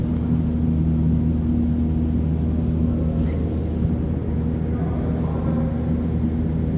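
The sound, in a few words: metro ventilation units humming in Montreal Métro tunnel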